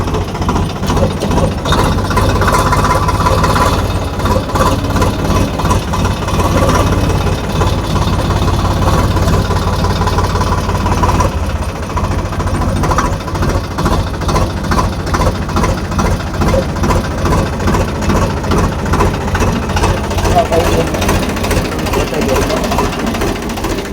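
A tractor engine chugs loudly and steadily with a rapid knocking rhythm, close by, running continuously throughout.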